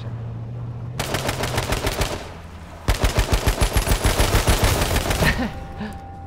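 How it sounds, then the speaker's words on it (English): AK rifle fired from the hip in a video game: two loud, rapid automatic bursts, the second a long rhythmic stream of evenly spaced shots, close and dominant with no talk. "hip firing with an AK"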